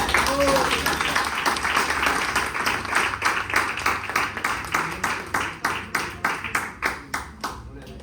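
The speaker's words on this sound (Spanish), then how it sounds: "Un aplauso para el Señor." A church congregation claps for the Lord, at first in a thick wash of applause that thins into distinct, rhythmic handclaps slowing toward the end.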